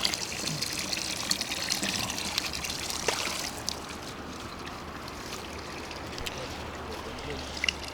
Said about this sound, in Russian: Наконец-то мы нашли чистую воду